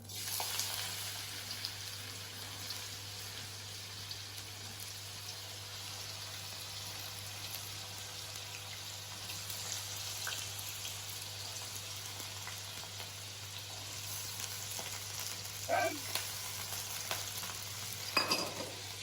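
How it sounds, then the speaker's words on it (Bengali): Chopped carrots frying in hot oil for homemade fried rice, a soft continuous sizzle close by under a low steady hum, with a few sharp utensil clinks near the end and no talking. "তেলটা আমার গরম হয়ে গেছে, এবার আমি একে একে গাজরগুলো কিন্তু দিয়ে দেবো।"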